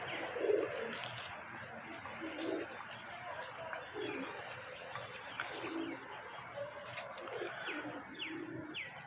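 Breeder pigeons coo softly in a loft, low repeated coos scattered through steady background noise with faint chirps, no talking over them.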